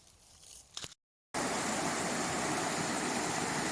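A waterfall pours into a wild lake as a loud, dense, continuous rush of water after a brief quieter stretch and a moment of silence.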